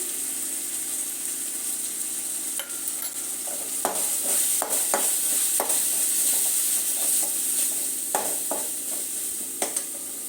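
Half a spoon of coriander powder roasts in a pan under a steady, close sizzle, with irregular sharp scrapes and taps of a spoon stirring it.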